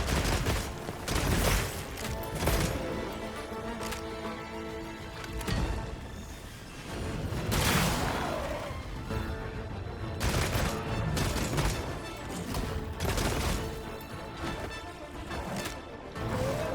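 Rapid-fire bowgun shots in Monster Hunter Wilds come as repeated loud bursts of clattering impacts, heavy and dense, rising and falling in waves over a busy battle mix.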